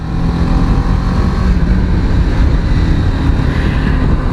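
A BMW 310 GS motorcycle engine runs steadily and loudly, a dense continuous drone with no pauses and no voices.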